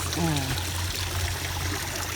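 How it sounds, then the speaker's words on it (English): A backyard patio water feature trickles steadily as water flows beneath a rock, a continuous close burble with no pauses. "it's got the water flowing underneath it"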